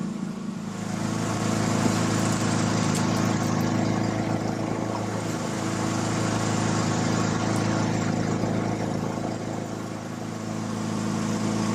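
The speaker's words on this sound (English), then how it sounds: "as I'm sure you can tell by the background noise, her mower is out running" A Honda HRR216 walk-behind lawn mower engine runs steadily in the background, a continuous even drone with a low rumble and no breaks.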